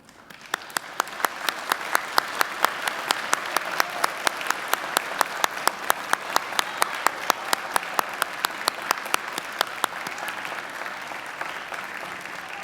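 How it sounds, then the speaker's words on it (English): A graduation ceremony audience gives a long, hearty round of applause, many hands clapping in a dense, steady wash, with one nearby clapper beating out a sharp, regular rhythm throughout. "give them a hearty round of applause"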